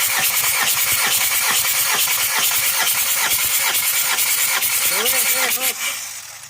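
A Daihatsu Rocky engine cranks on its starter during a compression test on a car with thick black exhaust smoke and weak power, a loud rapid churning rhythm running steadily before slowing and stopping, with a voice briefly heard.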